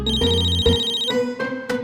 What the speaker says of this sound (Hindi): फोन बज रहा है, किसका है?